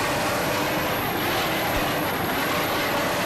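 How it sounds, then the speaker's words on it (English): A 32-foot Superboat catamaran built in Amityville, New York, runs its twin 550 hp KS&W inboard engines with MerCruiser drives at the 1988 Key West races, producing a steady, loud, broad engine roar with no break. "It is powered by twin 550 horsepower KS&W inboard motors with Merc Cruiser drives."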